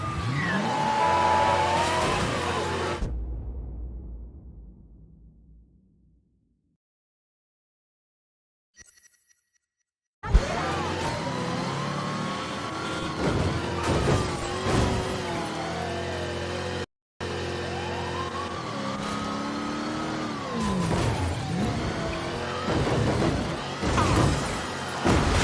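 A car drives off during a police chase in a video game, its engine revving and rising while it accelerates after a long silent gap. The engine stays loud and close, with some shattering.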